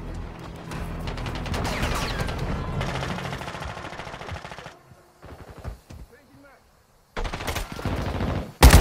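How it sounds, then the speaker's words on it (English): Rapid automatic gunfire in the mobile shooter Call of Duty Mobile rattles loudly in long bursts, breaks into a near-silent pause with a few faint sounds, then resumes in heavy volleys. "I shot the enemy."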